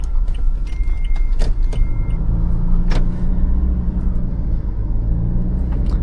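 Inside a 2025 Toyota Legender with a 2.8-litre 204 bhp diesel and automatic gearbox, driven in eco mode: a steady, loud low engine and road rumble fills the cabin, with a few light clicks and jingles.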